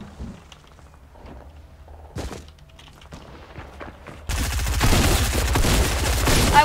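Gunfire in Fortnite during a live event, starting with scattered single shots and thuds, then breaking into a dense, loud burst of rapid automatic fire in the last seconds.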